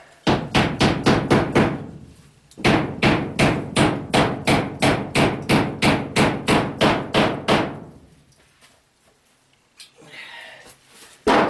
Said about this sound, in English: So I'm just nailing along the bottom.